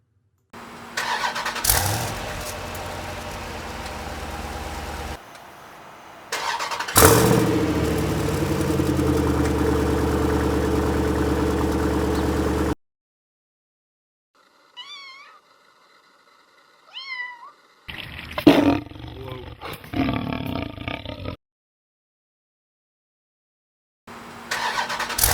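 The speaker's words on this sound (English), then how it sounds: "here is the exhaust fully installed" A 2014 Jeep SRT fitted with a Borla ATAK exhaust fires up and runs with a loud, deep rumble in separate bursts, broken by silent gaps and a few brief high chirps like a cat meowing.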